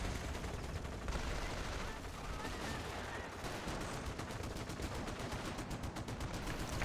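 Faint, distant machine-gun fire from a nest in a WWII strategy video game crackles in repeated rattling bursts throughout, with scattered gunshots mixed in.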